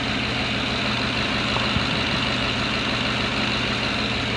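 A Ford F-150 with the 5.4L 3V engine idles smoothly and quietly after an exhaust manifold replacement, a steady low rumble with no ticking, close by and uninterrupted.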